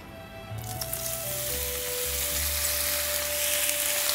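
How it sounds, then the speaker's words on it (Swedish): Chanterelle mushrooms fry in rapeseed oil in a hot pan, a constant loud close sizzle with faint stirring, over a steady background hum and with no talk. "Och de här ska jag inte steka för länge nu."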